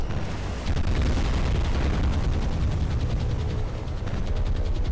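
Bombs from dive bombers in the naval war game War on the Sea, a dense continuous roar of blasts and gunfire rumbling loudly throughout with rapid rattling bursts layered on top.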